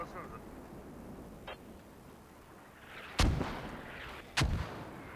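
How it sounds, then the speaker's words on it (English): Mortar fire in the video game Squad during a competitive match: a faint early thump, then two loud, booming impacts about a second apart, each with a rumbling tail over a steady low battlefield background. "These mortars are going to continue rocking the place"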